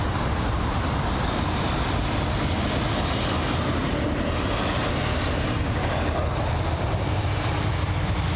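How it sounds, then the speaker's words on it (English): A KLM Boeing 737 airliner at London Heathrow roars with a loud, steady broadband jet-engine rumble that stays close and constant throughout. "We've got the KLM 737 up next."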